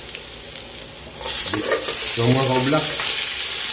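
Carrots going into chicken kaldereta in a hot frying pan set off a loud, steady sizzle with stirring scrapes, starting after a quiet moment, while a voice speaks briefly over the cooking.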